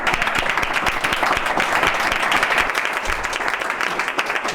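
Applause from an audience at a public housing talk in Extremadura, many people clapping close and loud in a dense, sustained burst with faint crowd murmur underneath.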